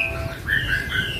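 A caged wambie songbird sings at a bird kiosk, giving a few clear whistled notes close by over faint background noise.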